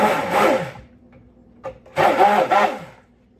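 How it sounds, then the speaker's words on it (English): An immersion blender whirs in two short bursts while mixing homemade soap, loud and close, separated by a brief quiet pause and a small knock. "You got to have an immersion blender."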